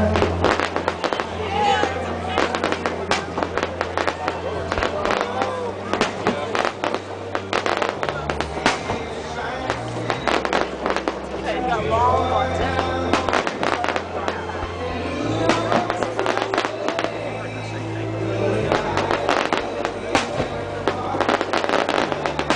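Fireworks bursting over Delray Beach on the Fourth of July, a dense, continuous barrage of booms and crackles through the whole stretch, with a crowd talking underneath.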